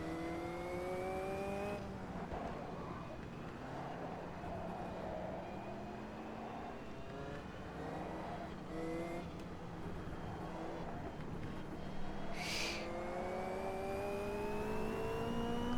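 Caterham race car running a 300 HP engine with no traction control in Automobilista 2, its engine revving steadily and close by with rising and falling gear sweeps for about sixteen seconds, no voices.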